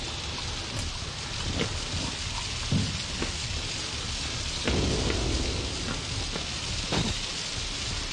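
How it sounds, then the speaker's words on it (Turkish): Steady, dense rain hiss fills the scene in the survival horror game Outlast, with a few soft low thumps and rumbles breaking through the constant downpour. "Bu nasıl yağmur ya?"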